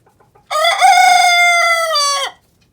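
A single loud rooster crow rings out close by, a long drawn-out call lasting nearly two seconds against near silence.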